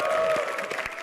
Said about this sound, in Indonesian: Tepuk tangan sekali lagi untuk Ajis